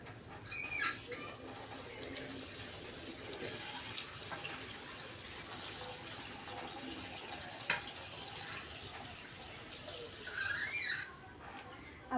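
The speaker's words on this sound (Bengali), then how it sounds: "এখন পানি দিয়ে দিব।" Water is poured into a cooking pot of fried rice and lentils for thin khichuri with beef, a faint, steady splashing stream that swells briefly near the end.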